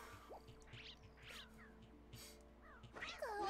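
A cat meows in the video game Twin Saga, several soft, faint mews spaced out over quiet background, followed by a louder, wavering cry at the end.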